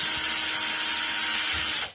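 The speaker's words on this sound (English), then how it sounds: "We just drilled out the end of that so we can thread it on easier" A drill bit bores out the plastic end of a plug for a DC power cable, giving a steady, close, high whirring grind for about two seconds before it stops abruptly.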